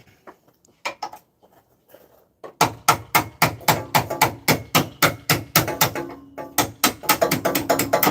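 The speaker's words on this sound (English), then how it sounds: "Gonna punch these bolts out." A hammer strikes steel to drive bolts out of the front axle of a 1999 Jeep Cherokee XJ: a few scattered taps, then a long run of loud, evenly spaced metallic blows, close up with no talking.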